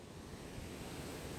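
Waterfall in Plitvice National Park, Croatia, a steady, dense rush of falling water, loud and continuous throughout with no break or talk.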